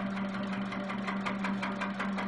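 A sewing machine runs steadily while stitching a quilt's outer border, a continuous close mechanical whir with a fast repetitive needle chatter and a low hum underneath, no voices.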